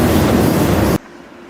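Freight train rolling, heard while trainhopping, a loud dense rumble and roar close up that cuts off abruptly to near silence.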